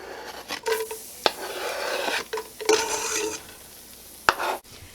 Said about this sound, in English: Once your butter is melted, go ahead and add your garlic.